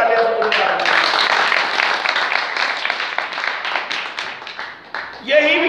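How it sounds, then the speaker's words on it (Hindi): A crowd at a speech on education breaks into loud, sustained applause, a dense roar of clapping that fades slightly toward the end as a voice resumes speaking. "मैं चाहता हूं एक बार जोरदार तालियां से पुकार दूं।"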